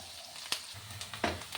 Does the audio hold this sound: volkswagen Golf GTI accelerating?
no